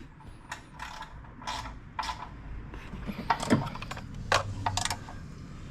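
Oil drain plug being tightened with a ratchet on a 2018-2022 Toyota Camry 2.5L during an oil change: a series of quiet, close ratcheting clicks in short bursts with faint mechanical clatter, no talking.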